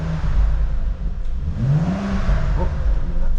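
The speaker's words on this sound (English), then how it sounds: "we'll give it a little rev now so you can hear what the car sounds like" A cold BMW M135i F20 engine revs up loudly, its pitch climbing and then falling back, with a second shorter rev following close by.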